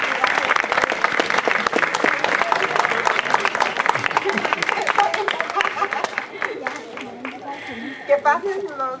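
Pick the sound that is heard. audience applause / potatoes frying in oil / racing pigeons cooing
audience applause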